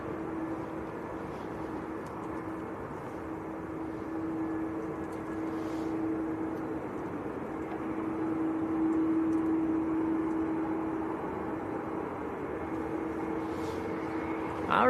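Aer Lingus Airbus A330 at Manchester Airport, a steady distant jet drone with a sustained tonal hum that swells slightly midway and holds at moderate level, with faint voices now and then.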